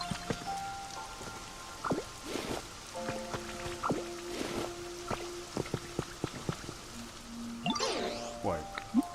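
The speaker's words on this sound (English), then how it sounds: "I will do it while it is raining." Rain falling in the video game Pokémon Pokopia, a soft steady patter of drops underneath bright game chimes and melodic tones, with a voice speaking briefly.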